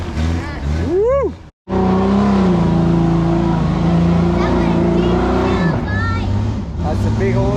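A 4x4 engine revving hard on a steep, muddy hill during off-road driving in the rain, a loud sustained roar that rises in pitch, with cheering and voices over it.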